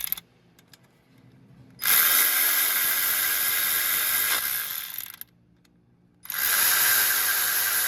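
A power ratchet spins on 10mm bolts of a Honda J35 3.5L V6 engine during timing belt work, two loud sustained bursts of whirring separated by pauses, close and without talk.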